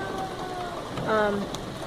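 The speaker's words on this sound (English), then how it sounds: "So it's been raining." Steady rain falls during a storm, a continuous hiss with a faint voice murmuring underneath.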